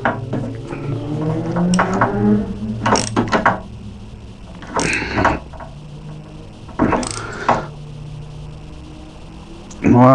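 A ratchet tightening the top bolt of the belt tensioner on a PT Cruiser 2.2 CRD clicks in several short bursts of rapid, loud, close mechanical clicking, separated by pauses and broken by brief talk.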